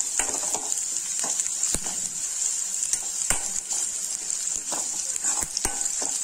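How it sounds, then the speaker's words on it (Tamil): Cluster beans sauté in a pan for a poriyal, with a steady close sizzle under repeated sharp scrapes and taps of a spatula stirring at an irregular rhythm. "இது நல்லா வதங்கிருச்சு."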